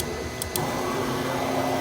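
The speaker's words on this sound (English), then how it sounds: "we're over at the printer as you can see, and it's just starting to" A large-format printer starting up in a studio, with a steady mechanical whir and hum following two brief clicks, close and continuous with no talk.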